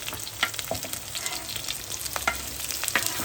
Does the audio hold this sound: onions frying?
yes